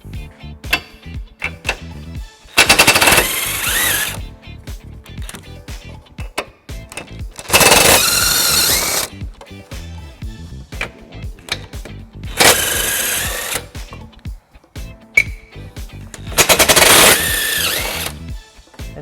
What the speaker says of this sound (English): It's held on by 2 nuts on each side, and we're going to remove those using an 18mm socket.